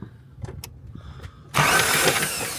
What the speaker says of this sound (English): Just crank her over